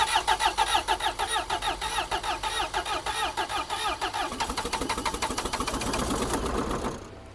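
A Citroën C15's starter cranks with a fast rhythmic churning pulse for several seconds until the engine catches and runs, loud and close, and cuts off near the end.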